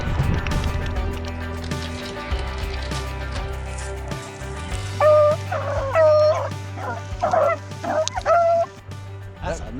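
Hunting dogs chasing rabbits bark and yelp in a rapid, excited run of sharp, high calls that grows louder toward the end, with outdoor rustling and low rumble underneath.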